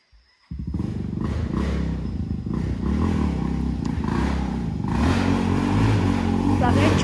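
A motorcycle engine starts up and drones steadily on a steep dirt trail, with the revs rising as it climbs and clattering from the rough ground, while a rider talks over it.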